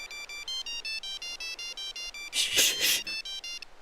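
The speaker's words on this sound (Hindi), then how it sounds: "श्वेता की माँ ने शिल्पा को फोन किया था" A mobile phone rings with an incoming call, its electronic ringtone repeating in short regular pulses, broken briefly by a louder burst of noise near the end.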